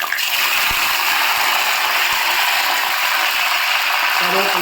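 Curry leaves dropped into hot oil with fenugreek for a fish curry, a loud, dense, continuous crackling splutter that stays intense throughout.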